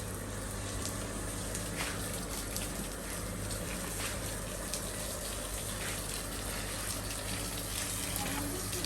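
Water pours steadily onto plants outdoors on a hot day, a continuous close gushing splash that fills the whole stretch, with a voice talking faintly underneath.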